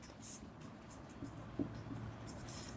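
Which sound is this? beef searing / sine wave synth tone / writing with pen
writing with pen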